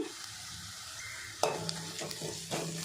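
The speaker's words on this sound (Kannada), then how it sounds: "ಇದನ್ನು ಒಂದು ನಿಮಿಷದಷ್ಟು ಫ್ರೈ ಮಾಡ್ಕೋಬೇಕು" Crushed green chilies fry with reddened onions for a brinjal gojju, making a soft, steady sizzle with a few metal scrapes and light clinks from stirring, close and fairly quiet.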